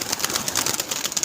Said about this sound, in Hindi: बहुत ज़बरदस्त कबूतर है यार।